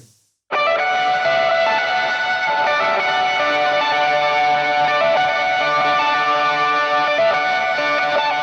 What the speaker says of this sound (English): So that part's kind of just like a little hammer-on and pull-off section.